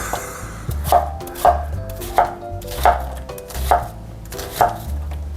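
A knife chops onions on a board in a steady rhythm of about seven crisp knocks, close and clear, with quiet kitchen sounds between strokes.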